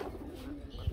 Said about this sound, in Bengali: সব হচ্ছে দেশি কবুতর বন্ধুরা